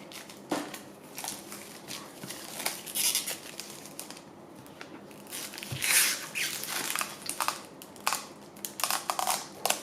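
Plastic wrap crinkles and crumples as an Oracle du Féminin Sacré oracle card deck is unwrapped and opened, with irregular close bursts of crackling and tearing that swell and fade over about ten seconds.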